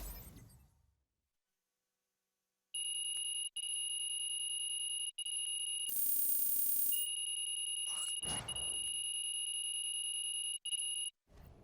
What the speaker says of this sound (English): What, you hit the snooze on your alarm clock, Lazar?